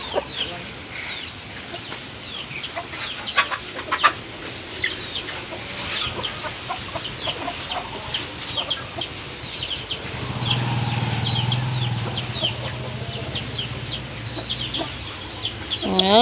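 Chickens cluck and chatter in a coop being bedded with rice hulls, many short calls overlapping close by, with a steadier low rumble joining partway through and occasional flutters.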